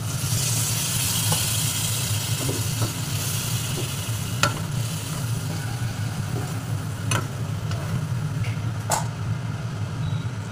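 Spiced jackfruit curry sizzles steadily in a pan as water is added, a continuous frying hiss with a few sharp crackles and clicks scattered through, over a low steady hum.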